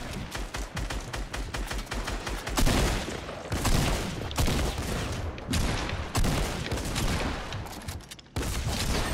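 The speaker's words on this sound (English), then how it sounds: "This is not a bad shotgun though." Rapid volleys of shotgun blasts from a tactical shotgun in a first-person shooter game, loud dense bursts repeating continuously with brief gaps, a few heavier booms standing out.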